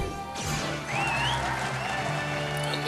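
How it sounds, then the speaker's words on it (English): A crowd cheers and applauds in the arena of the Ni no Kuni: Wrath of the White Witch video game, with a steady roar of clapping over tonal music that swells slightly partway through. "And the crowd goes wild."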